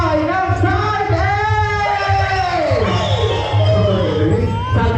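Wedding guests in a hotel hall cheering and shouting together, a loud, close crowd roar with rising whoops and calls that carries through the whole stretch.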